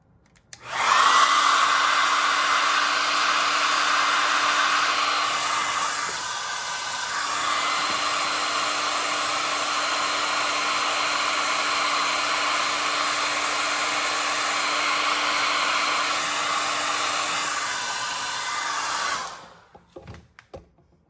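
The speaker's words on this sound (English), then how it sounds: "To speed it up, I'm going to use the hair dryer." A hair dryer blows steadily at close range for nearly twenty seconds, a continuous loud whooshing hum with a slight dip in pitch partway through.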